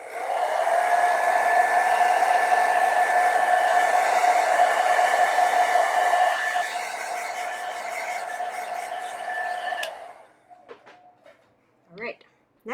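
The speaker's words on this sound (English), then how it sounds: "I'm just going to go over it with the blow dryer." A blow dryer dries a watercolor painting of a bird of paradise, giving a loud, steady whining roar for about ten seconds before it cuts off, followed by a few faint clicks and knocks.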